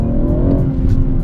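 A BMW M140i idles with stability control switched off, its engine giving a steady, loud, low rumble with a slight rise in the revs, close by and heard alone.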